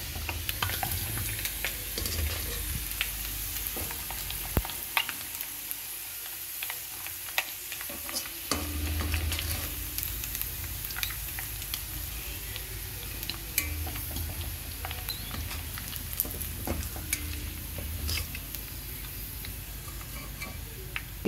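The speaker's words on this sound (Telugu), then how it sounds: "వీటిని సిమ్లో పెట్టి వేయించుకుందాం" Prawns frying in oil in a pan on a low flame, a continuous soft sizzle full of small crackles and pops that runs for the whole stretch.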